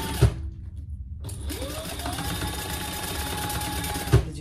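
A sewing machine back stitches over a vinyl handle on a storage caddy made of vinyl and Ottertex fabric, running in a steady whirring hum for about three seconds between short thumps.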